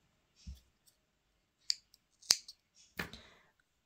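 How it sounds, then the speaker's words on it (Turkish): Scissors snip through the end of cream knitting yarn while making two-needle seamless booties, giving a few sharp, isolated clicks spaced apart in a quiet room. "Artık burada krem ipimle de işim kalmadığı için krem ipimin ucunu şöyle kesiyorum."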